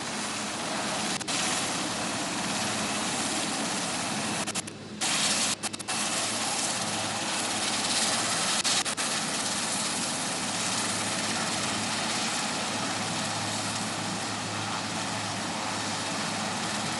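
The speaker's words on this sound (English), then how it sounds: "No wonder an anti-submarine helicopter is the most potent enemy of" An anti-submarine helicopter flies past at a Navy Day Beating Retreat and Tattoo ceremony at the Gateway of India, giving a steady, loud rotor and engine roar for the whole stretch with a few brief dropouts.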